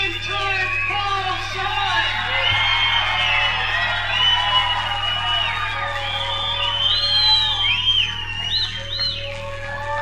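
A wrestling arena crowd cheers and whoops steadily for Prime Time Paul Zine, a 210-pound contender from West Roxbury, Massachusetts, while a steady low hum runs underneath, with loud, dense yells and scattered high whistles throughout.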